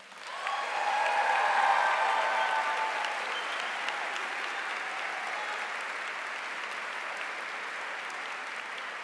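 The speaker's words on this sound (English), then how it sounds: "I hope you'll join me in one more round of applause" Audience applause fills a law school commencement ceremony, swelling quickly into a dense, steady wash of clapping that holds for several seconds and then eases slightly, with no voices over it.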